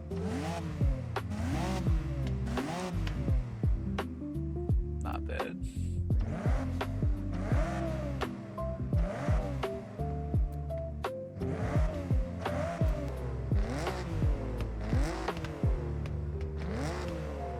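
A Nissan Stagea engine in the racing game Forza Horizon revs hard again and again, rising and falling in pitch with gear changes and tire squeals, loud throughout, with a brief spoken comment.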